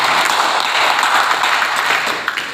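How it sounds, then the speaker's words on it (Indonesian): A hall audience at an inauguration ceremony for a youth organisation's central board gives steady, dense applause that fills the room for a couple of seconds before easing off slightly at the end. "Seluruhnya kita berikan tepuk tangan yang meriah."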